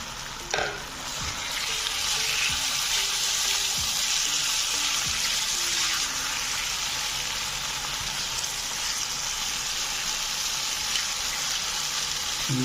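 Marinated bone-in chicken hits a hot pan and sets off a loud, steady sizzle that carries on unbroken, with occasional soft knocks of stirring close by.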